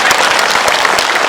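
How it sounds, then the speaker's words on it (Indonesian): An audience claps at a large Islamic gathering for Isra Mi'raj in Rokan Hulu, producing a brief, dense, steady burst of applause from many hands close by. "Tepuk tangan dulu dong."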